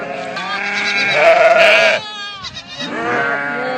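A sheep bleats loudly up close, a long quavering cry followed by shorter bleats after a brief pause.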